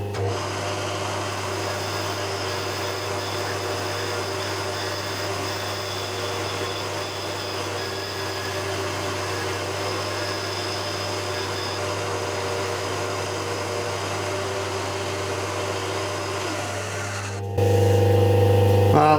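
A machine tool trims the top of a cylinder for a Titan .60 glow plug engine, giving a steady, loud mechanical whir with constant hum that runs unbroken before changing abruptly near the end.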